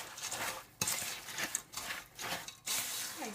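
Chocolate broken biscuit cake mixture being mixed in a bowl, with repeated spoon scrapes and clinks against the bowl in an uneven rhythm, close and moderately loud, no voices.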